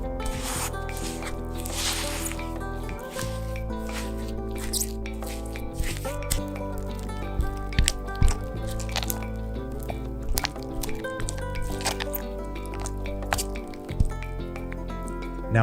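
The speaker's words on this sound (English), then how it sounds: "Add 70 grams of sugar to the mascarpone cheese, whisk until smooth." Whisking mascarpone cheese with sugar in a clear bowl: repeated soft squishing and clicking strokes in an uneven rhythm, close and moderately quiet, with faint background tones.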